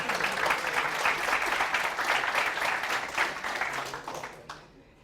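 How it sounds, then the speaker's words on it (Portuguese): Applause from an audience at a tech talk or tutorial session, dense steady clapping for about four seconds before tapering off, with no one speaking. "Palmas para o Tino Gomes aí"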